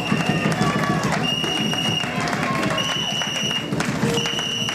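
A church congregation at a seminar claps and cheers for the mothers, a steady, rhythmic wash of many hands beating together with crowd voices mixed in throughout.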